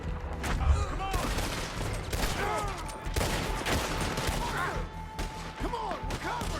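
Dense gunfire rattles through a large gunfight in the video game Red Dead Redemption 2, with rapid overlapping shots, ricochet whines and thuds continuing without pause, and voices shouting beneath the barrage.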